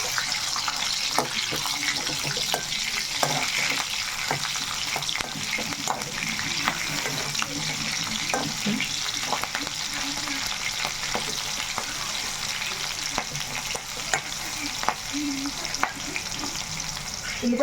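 Green chillies and cumin seeds frying in a pan, a constant close sizzle and crackle with regular stirring scrapes throughout, no talking.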